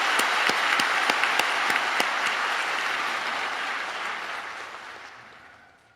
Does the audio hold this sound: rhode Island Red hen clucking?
no